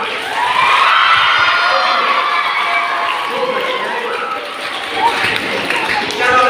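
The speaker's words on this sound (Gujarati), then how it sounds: "શેખ તનવીર માટે આપણે જોરદાર તાળીઓ" A quiz competition audience claps and cheers loudly for a contestant, a dense steady wash of applause and shouting that holds for several seconds.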